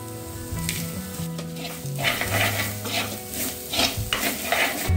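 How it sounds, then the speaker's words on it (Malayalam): Grated coconut with black pepper and curry leaves roasts in a pan, a close, steady sizzle broken by the scrape and rustle of stirring, with no voices over it. "തേങ്ങ നന്നായിട്ട് വറുത്തെടുത്തിട്ടുണ്ട്."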